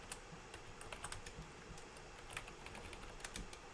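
Faint rapid typing on a computer keyboard, a continuous patter of light key clicks over a steady background hiss.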